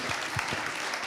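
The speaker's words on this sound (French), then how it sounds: "Vous pouvez applaudir nos intervenants quand même." Conference audience at a climate forum applauding panel speakers, a brief wash of steady, fairly loud clapping from a hall full of people.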